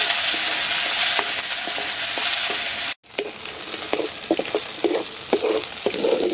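Loud sizzling of garlic and ripe red chili in hot mustard oil, briefly cut off, then crackling frying with spatula scrapes and clicks.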